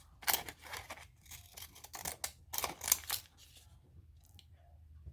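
Scissors snip through paper while fussy cutting pieces for a collage, giving a series of crisp, close, irregular cuts and rustles with short pauses, fading to quiet toward the end.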